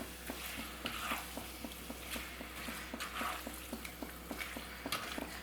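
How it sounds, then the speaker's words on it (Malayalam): Chicken with Chinese potatoes, tomato and salt is stirred in a pan for a koorkka chicken roast: a faint, steady sizzle under rhythmic, evenly spaced spatula scrapes and taps. "എല്ലാം കൂടി നമുക്കൊന്ന് ഇളക്കി കൊടുക്കാം"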